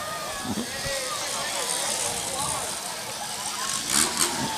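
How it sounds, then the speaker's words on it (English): Shriners ride mopeds through a street parade, small engines buzzing and revving at a moderate distance over steady outdoor crowd noise, with voices talking throughout. "they do their wonderful little intertwine here on the street with their mopeds"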